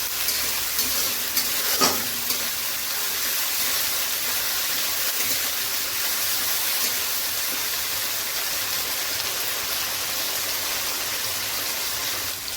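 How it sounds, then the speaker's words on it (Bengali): Continuous loud sizzling of ginger frying in a hot pan for aloo dum, with an occasional scrape of stirring, no voices. "একটু নাড়াচাড়া করবো, আদাটা ভাজা ভাজা হবে"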